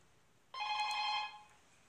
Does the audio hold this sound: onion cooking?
no